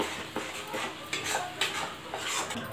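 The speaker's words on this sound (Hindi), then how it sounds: "फिर इसे अच्छे तरीके से भूनते रहें, ढक ढक के" Arbi (taro) sautéing with mustard masala and turmeric in a pan: a spoon scrapes and knocks against the metal in a steady stirring rhythm, close and fairly loud, over a faint sizzle, with no talking.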